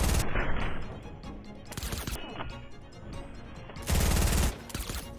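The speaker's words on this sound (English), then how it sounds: "heisted run and gun SMG, 10 meters out, hip firing, time to kill" Rapid bursts of submachine-gun fire from a heisted run-and-gun SMG, hip-fired at a target ten meters away in Fortnite, loud and dense, in several sustained volleys separated by brief pauses and reload-like clatter.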